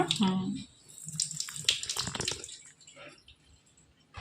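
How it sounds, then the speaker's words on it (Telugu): Water swishes and splashes in a container as lentils for sambar are rinsed by hand, close up, with a person speaking briefly over it. "ఇప్పుడు పప్పు ఇట్లా కడుక్కోవాలా"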